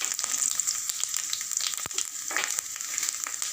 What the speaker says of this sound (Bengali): এখানে ফোড়নে দিয়ে দিয়েছি শুকনো লঙ্কা ফোড়ন, দারচিনি, এলাচ